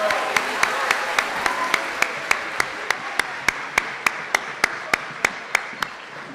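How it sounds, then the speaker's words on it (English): Audience applause at a middle school moving-up ceremony, honoring the 7th and 8th grade chorus members: a steady wash of many hands clapping, with a sharp, regular ticking beat running through it. "How about another round of applause for our 7th and 8th grade members of chorus?"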